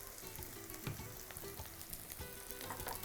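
Onions and curry leaves sauté in hot oil with a steady, dense sizzle and occasional crackles and stirring scrapes, close and continuous with no talking.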